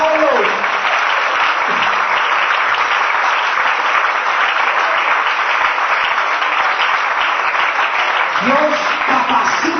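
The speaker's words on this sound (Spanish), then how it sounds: "Denle un aplauso al Señor." A church congregation claps together in a loud, sustained burst of applause that runs throughout, with a voice briefly rising over it at the start and again near the end.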